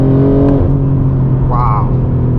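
A BMW M4 G82 with an aftermarket exhaust rumbles loudly and steadily up close, with a rising engine note swelling briefly partway through, and a voice is heard over the drone.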